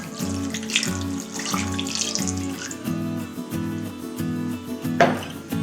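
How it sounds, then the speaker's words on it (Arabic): A glass of water poured into a clay tanjia pot, a close, steady trickling splash that runs for several seconds before a brief clunk near the end. "ومن بعد اخيرا غادي نزيد داك الكاس ديال الماء"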